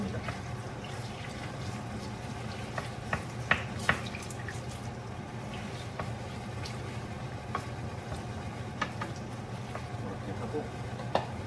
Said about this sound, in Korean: 지글지글 익기 시작합니다.